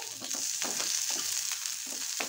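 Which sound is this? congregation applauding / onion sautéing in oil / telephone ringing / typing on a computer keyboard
onion sautéing in oil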